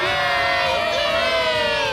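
Crowd cheering at an Angels baseball game when people appear on the jumbotron, a dense, loud roar of many voices with rising shouts and whoops, sustained throughout.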